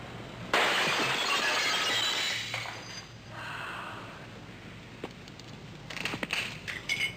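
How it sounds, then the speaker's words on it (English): An unprotected glass window shatters loudly when struck, a sharp crash followed by tinkling shards falling and settling, then a few scattered later clinks, with no talk. "Not much left of the window, but a lot of dangerous broken glass on the floor."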